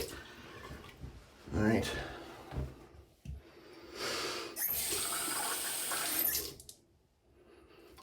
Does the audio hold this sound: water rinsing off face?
yes